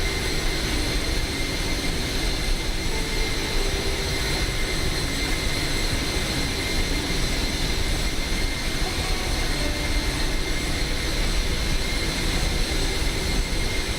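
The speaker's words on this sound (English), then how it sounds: "Those CF6 engines are definitely very loud, aren't they, folks?" Loud, steady roar of CF6 jet engines heard from inside the cabin of a simulated wide-body airliner in Microsoft Flight Simulator, a dense unbroken drone with high whine tones running throughout, no talking.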